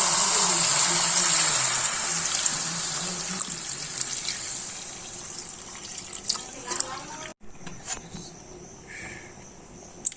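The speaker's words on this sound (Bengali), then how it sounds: "তাই জন্য আপাতত ঠান্ডা জলই দিচ্ছি" Cold water is poured into a pot of chicken curry as a steady rushing stream that thins out and fades, followed by a few faint splashes and clinks.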